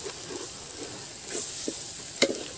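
Chicken masala and chili powder sauté in a pan for a chicken curry, giving a steady soft sizzle with occasional stirring scrapes and one sharper knock near the end.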